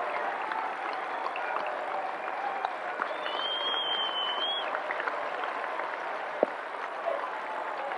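A baseball crowd at the Met in the 1999 SEC Baseball Tournament championship stands and applauds, a dense sustained roar of clapping and cheering heard from a distance with a few sharper claps and whistles rising over it.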